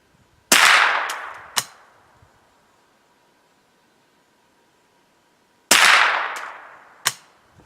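.22 caliber rifle fired with CCI Mini Mag ammunition outdoors: two pairs of sharp, loud cracks, each pair a strong report followed about a second later by a quicker snap, separated by several seconds of quiet.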